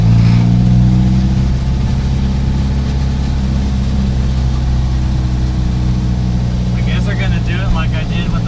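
A Ford MK1 Transit van's engine rumbles low and steady as it drives along, under nearby conversation, with the engine note swelling briefly near the start.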